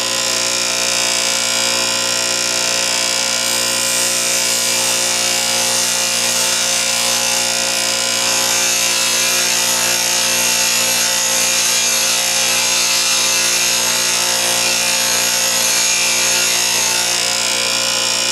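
Bench grinder wheel grinding a high-speed steel lathe threading tool, a loud continuous abrasive hiss over a steady motor whine, unbroken for the whole stretch.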